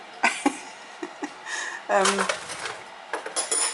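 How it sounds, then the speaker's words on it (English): A large serving spoon and a teaspoon clink against each other in a kitchen, a few sharp metallic taps and scrapes close by, with a voice speaking. "this is a serving spoon. Let me put it next to a teaspoon"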